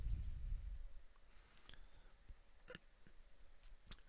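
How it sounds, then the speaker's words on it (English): A left mouse button is double-clicked while fire-station software is being navigated, with a few faint, sharp clicks in quick pairs spread over a quiet room. "you'll select the appropriate apparatus by double-clicking the left mouse button"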